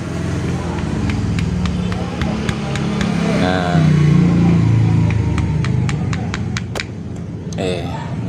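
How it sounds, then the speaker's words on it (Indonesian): A rough-running motorcycle engine idles with a regular metallic ticking and a low rumble, heard close by under ongoing talk. "ini motor kasar banget nih suaranya nih"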